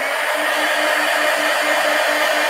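A hair dryer blows steadily on a mixed media collage pumpkin, a continuous loud airy whoosh with a faint tonal hum, running unbroken with no talk.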